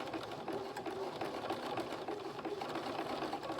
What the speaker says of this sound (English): I'm just really using my sewing machine like a pencil, just drawing my lines